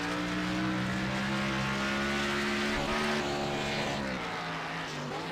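Race car engine in the iRacing sim at Mount Panorama, a steady loud droning whine with sustained harmonics that dips and shifts in pitch near the end, heard on board.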